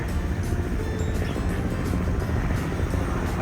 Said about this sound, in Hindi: ये बेसिकली टूरिस्ट हेलीकॉप्टर्स हैं